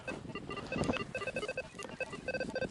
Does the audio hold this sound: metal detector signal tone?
yes